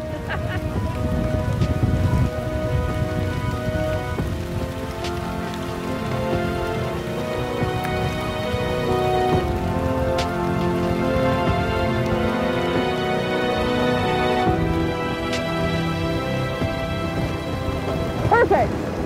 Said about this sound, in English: Here comes the rain, right on schedule.